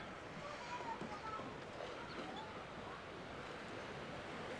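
Waves wash in at a tiny municipal beach on the Paphos sea front. A steady, soft rush of surf mixes with wind noise in a continuous, even wash.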